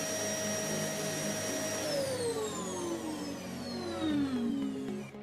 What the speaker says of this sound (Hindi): सतह को खुरदुरा और वैक्यूम क्लीनिंग द्वारा धूल इकट्ठा करें।